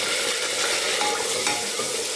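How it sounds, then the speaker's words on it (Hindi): Chopped onions fry and sizzle with soybean in an oiled pressure cooker as the ingredients are stirred, giving a steady, bright hiss with light scraping, close and continuous, with no talking. "इसी में जो है हम प्याज डाल देंगे। इसको हम पका लेते हैं"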